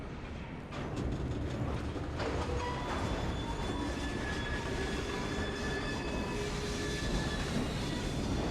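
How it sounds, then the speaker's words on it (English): A steam-era train in Assassin's Creed Syndicate rolls along with a continuous rumbling clatter, metallic wheel squeals and rattling carriages, loud and steady after a brief quieter start, with no voices. "We fixed up the train for you."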